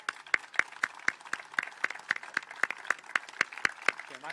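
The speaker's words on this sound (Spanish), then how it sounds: "yo en primer lugar querría pedir un aplauso a Luis Gorrochategui por lo bien que ha moderado la mesa" A panel event audience applauds the moderator, a modest, evenly spaced run of clapping in a quiet room, fairly soft and sounding like only a few hands.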